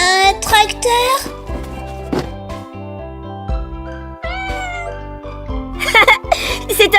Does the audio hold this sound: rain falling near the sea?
no